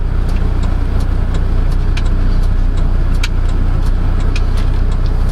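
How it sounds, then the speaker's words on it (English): A 2022 Fuso Canter FE71 truck engine drones steadily while driving, a loud, constant low rumble from inside the cab with faint clicks and rattles over the top. "gonna drive the Fuso Canter."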